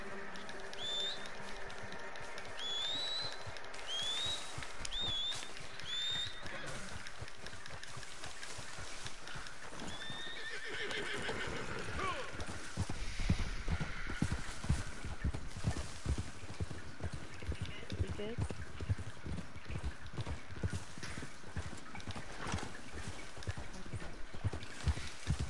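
A horse in the video game Red Dead Redemption 2 clip-clops steadily, its hooves growing louder and more rapid partway through. Birds chirp faintly near the start.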